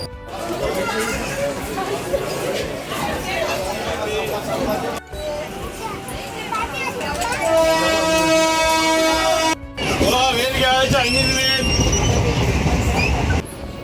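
A Roha–Diva passenger train running toward Panvel, with rhythmic wheel clatter and occasional metallic squeals, people chatting and music-like tones heard over the steady rumble.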